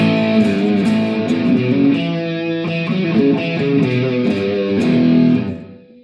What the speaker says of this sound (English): SM Distortion.